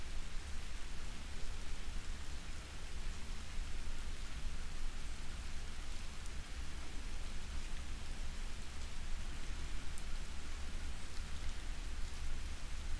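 Steady rain falling continuously, an even wash of patter and hiss with no voices, moderately soft and unbroken.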